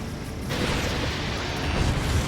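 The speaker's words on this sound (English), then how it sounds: "Did you see that explosion?" A broad, rumbling explosion from the Ace Combat 7 air combat game, set during an attack on supply ships, swells up after half a second and holds as a dense, loud roar for the rest of the moment.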